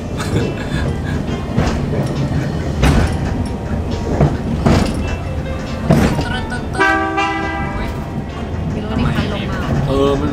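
A cable car on Mount Maya in Kobe, heard after dark. Loud rumbling rail and mechanical noise runs throughout, with a brief horn-like tone near the end, under people talking close by.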